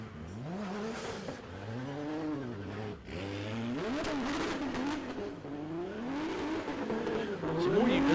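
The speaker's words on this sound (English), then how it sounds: "It's one of the more unique sounds, isn't it, the Barra underneath the bonnet of that car." A Ford Barra turbo straight-six drift car, a Nissan Silvia, runs at a stadium drift competition with a loud, sustained engine note that rises and falls through repeated revs, under tyre squeal and crowd noise.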